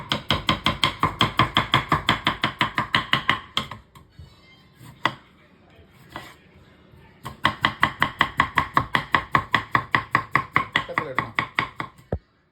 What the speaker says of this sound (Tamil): இப்போ உருளைக்கிழங்கு நாங்கள் வெட்ட போகிறோம்